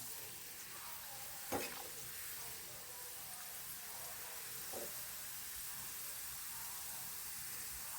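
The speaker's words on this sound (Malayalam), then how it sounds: "ഇടയ്ക്ക് കോവയ്ക്ക ഇതുപോലെ ഫ്രൈ ചെയ്തെടുക്കാം" Ivy gourd (kovakka) slices frying in oil make a steady, quiet sizzle throughout, with a couple of brief stirring scrapes standing out over the hiss.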